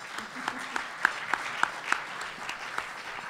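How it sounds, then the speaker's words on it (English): Modest audience applause at a legal conference panel on public-interest litigation, a light scattering of claps with a few sharper individual hand claps standing out, moderately near and brief, with faint voices murmuring underneath. "You can clap."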